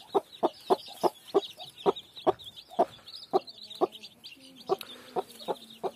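Aseel hens clucking in a steady series of short, sharp calls, close by, with chirping birds in the background and a few longer drawn-out clucks.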